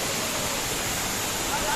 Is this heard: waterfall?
yes